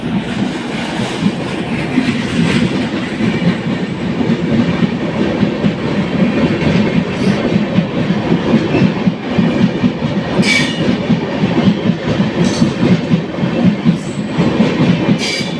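The North East Express pulls out of a station on the Indian railway, its wagons rolling past close by in a loud, steady rumble with clickety-clack wheel beats and occasional thin squeals, and no talking.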